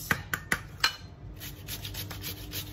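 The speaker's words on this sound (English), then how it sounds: "So use the bigger grater." Raw potatoes grated by hand on a large cheese grater for hash browns, four quick scraping strokes at the start followed by softer, continuous rubbing, close and fairly quiet with no talking.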